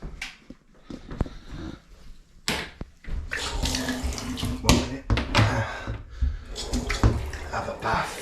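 Water runs from a tap into a bathtub as a hissing, splashing rush that grows louder and fuller, broken by bumps and clatter. A person speaks at times over it.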